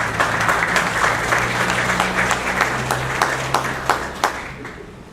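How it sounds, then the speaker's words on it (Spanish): An audience at a business seminar on cost strategies gives a sustained round of applause, dense and even clapping from many hands with a low hum beneath, tapering slightly toward the end. "Un aplauso, por favor."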